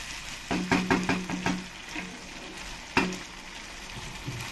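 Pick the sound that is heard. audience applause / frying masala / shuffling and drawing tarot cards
frying masala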